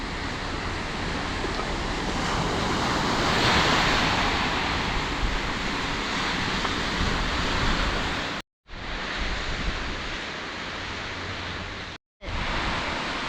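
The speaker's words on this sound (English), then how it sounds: "A bit breezy, but not too bad." Strong wind buffets the microphone on a beach while surf rolls in underneath, a loud continuous roar broken by two brief cutouts.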